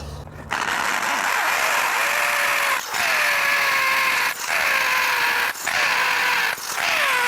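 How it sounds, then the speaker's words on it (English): A power drill whirs loudly in four long bursts separated by short pauses, its whine shifting in pitch as it bites into the material, drilling a hole while installing stainless cable railing. "Drill the kitty corner hole."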